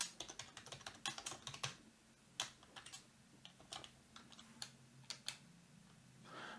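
Quiet, steady typing on a computer keyboard while writing Arduino code, with irregular key clicks in short bursts and a few louder presses standing out, close and alone without talk.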